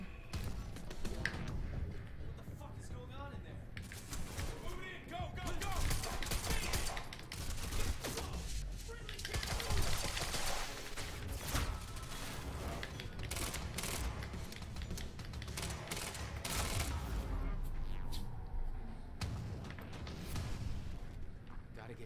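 Gunfire and impacts from the action video game Quantum Break, with bursts of shots, thumps and explosions layered over game music and effects, while a player talks over much of it.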